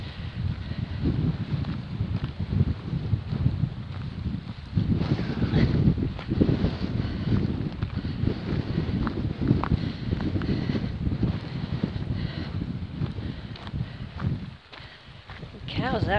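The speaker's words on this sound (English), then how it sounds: "It's really windy, so I'm sorry about how jiggly the camera is. It's a really strong sideways wind." Strong wind buffets the microphone with a constant low roar and gusty rumbles, while muffled talk comes and goes underneath.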